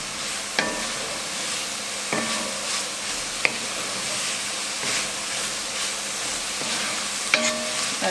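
Spices for chuckwagon chili sizzle steadily in a pot, with a constant frying hiss under an occasional scrape and clink of a spoon stirring against the pot.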